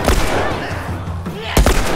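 Gunfire in The Last of Us comes as loud, close bursts of shots at the start and near the end, with game sound in between and a voice briefly heard.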